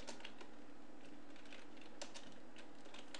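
Computer keyboard typing while entering code in VB Express 2008, a steady patter of light key clicks over a constant background hiss, no talking.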